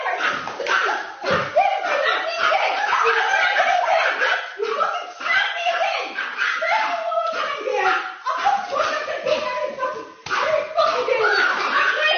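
Dogs bark repeatedly in fight footage, sharp overlapping barks amid commotion, laughter and voices throughout.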